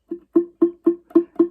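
Six plucked ukulele notes in an even rhythm, each with a slightly buzzy, muted tone because a fretting finger is touching the string below.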